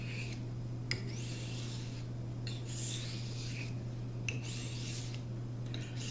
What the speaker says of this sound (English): you take two of your stones, you put them face to face and rub them together